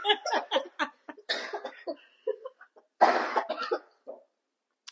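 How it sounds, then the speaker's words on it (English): A person coughs repeatedly in a tight series of harsh, close bursts, with a few breathy gasps and a louder cough near the middle before trailing off into silence. "Oh, coughing break."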